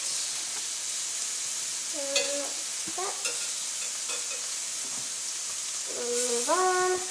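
Shrimp sizzle on a grill with a continuous hiss. Sharp scraping clinks sound as the pieces are turned, the last ones near the end slightly louder, and there are brief faint tonal squeaks.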